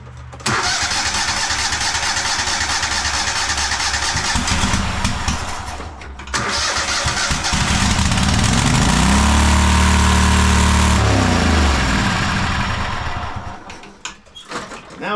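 Cub Cadet Super-LT1554 lawn tractor engine cranks and catches, then surges into a loud, steady runaway roar with rising and falling pitch after governor adjustment, close and without talk.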